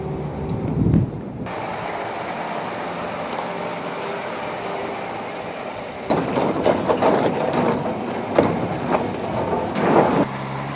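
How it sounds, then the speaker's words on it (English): Trucks loaded with miners travel toward Cerro Rico in Potosi, a steady rumbling engine drone with wind buffeting the microphone, a brief loud hiss early on and rattling, clattering bumps later. "a group of workers board trucks and head for Cerro Rico."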